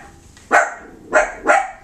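A dog lets out three sharp barks, one single and then a quick pair, close by in a quiet room at home, with no talk.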